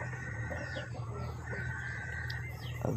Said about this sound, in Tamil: இப்போ பார்க்குறதும் வந்து சுத்தமான நாட்டுக்கோழிங்க.